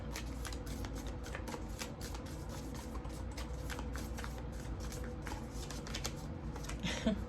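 Tarot cards being shuffled by hand in a quiet room, a steady run of soft, rapid riffling flutters up close that continues without a break.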